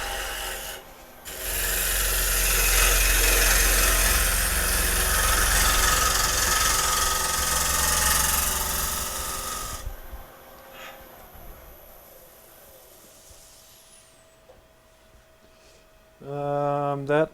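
A bowl is roughed out on a wood lathe: a loud, steady rasping cut runs for about nine seconds, then drops to a quieter hum of the turning lathe, with a brief tonal ring near the end.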